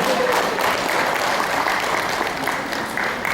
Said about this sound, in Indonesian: Kita berikan tepuk tangan untuk Pak juga.